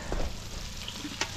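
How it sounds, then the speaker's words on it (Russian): Boiled potatoes frying in leftover oil from omul fish on a camp stove on an Arctic island, a steady close sizzle with faint stirring scrapes and brief crackles. "Я еще в этом всем масле обжарю вареную картошку"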